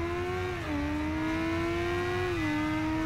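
A BMW S1000R motorcycle engine in the racing game RIDE 2 holds a steady, loud high-revving drone, its pitch dipping briefly twice as the bike shifts and keeps accelerating, with no voices over it.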